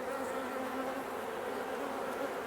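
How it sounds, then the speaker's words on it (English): A honey bee buzzes steadily inside a queen cage placed in a poly hive, a close, continuous drone with no pauses. "It certainly looks as if there's a bee in there moving about"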